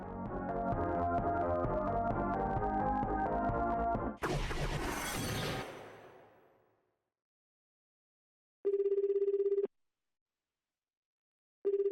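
A phone call placed in the video game Chaos;Head NOAH follows music and a sharp shattering crash, then after silence a single steady ringback tone sounds, and another starts at the end.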